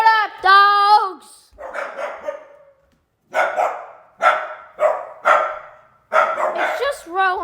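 Household dogs bark in a string of sharp, separate bursts, loud and near, excited by a visitor, with a few higher yips mixed in.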